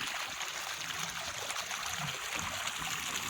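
Borewell water flows steadily into a paddy field, a continuous broadband rush and trickle at moderate level with no pauses, heard alone without talk.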